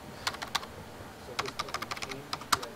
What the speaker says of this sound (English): And then hit S for subnet, type that in, and so on.